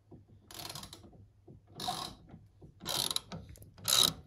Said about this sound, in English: I'm actually tightening these bolts